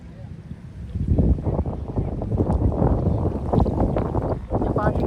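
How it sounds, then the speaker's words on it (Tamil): A motorboat speeds across a lake, its engine and hull noise forming a steady, loud rumble with choppy water and wind buffeting the microphone throughout. "அங்கே பாருங்கள், மோட்டர் போட் மாதிரி ஓட்டிகிட்டு போகிறாங்க, என்ன ஸ்பீடாக போகிறாங்க பாருங்கள்."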